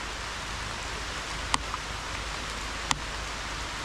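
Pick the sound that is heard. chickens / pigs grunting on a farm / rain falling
rain falling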